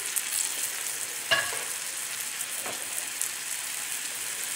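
Butter and oil browning in a pan with salmon fillet sticks, a steady hiss of sizzling and frying, close and even, with a brief stirring or scraping clunk partway through.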